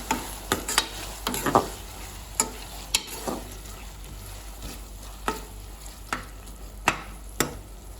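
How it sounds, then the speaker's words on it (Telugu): Ginger garlic paste frying in a pan for chicken curry, stirred with a utensil that knocks and scrapes the pan in irregular clicks over a faint, steady sizzle; no one talks. "అలాగే అల్లం వెల్లుల్లి పేస్ట్ వేసుకుందాం సరే కలుపుకుందాం"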